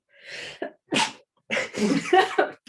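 A person sneezes, with a sharp burst preceded by a short inhale, followed by a few breathy, muffled vocal sounds close to the mic.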